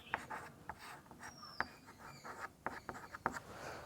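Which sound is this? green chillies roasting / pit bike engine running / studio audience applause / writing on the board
writing on the board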